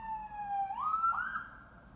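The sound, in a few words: emergency vehicle siren in London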